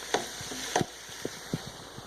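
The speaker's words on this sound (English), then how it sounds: "constantly stirring and mixing and watching this, because caramelizing and burning are 2 different things" Onions for French onion soup cook in a pan while being stirred, with soft scraping and clinking taps at irregular intervals over a quiet background hiss.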